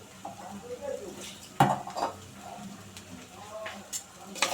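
A spatula scrapes and clatters in a pan as salt is mixed into bitter gourd frying with a soft sizzle, with one sharp knock, under a person talking.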